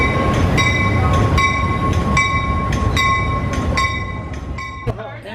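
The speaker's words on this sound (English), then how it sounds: "so a token Metro train comes in" A metro train pulls into a station, its steady rumble and rolling wheel noise carrying throughout, with a sustained high whine and repeated bright metallic clanks before the sound eases off near the end.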